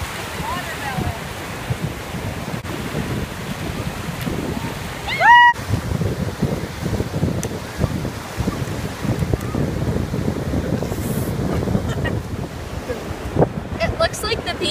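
Strong wind roars and buffets the microphone along an island beach, with surf rumbling underneath and a brief sharp squeak partway through.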